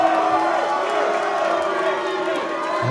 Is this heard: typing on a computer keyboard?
no